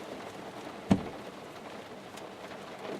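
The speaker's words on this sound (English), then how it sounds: "I'm sitting here in the car and rain's picking up again" Rain falling on a parked Nissan 240SX, a soft, steady patter heard from inside the car, with one brief louder knock near the start and no talk.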